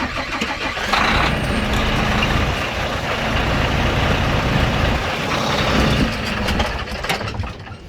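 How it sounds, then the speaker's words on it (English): A truck engine cranks and catches after about a second, then settles into a loud, steady rumbling idle close by before easing down near the end. "start the truck up"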